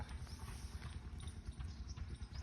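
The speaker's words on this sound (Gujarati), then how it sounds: "જુઓ આપણા ઘોડીઓ જો" Steady clip-clop of mare hooves, a continuous rhythmic clatter at moderate distance with no talking.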